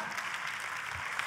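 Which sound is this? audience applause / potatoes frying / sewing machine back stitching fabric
audience applause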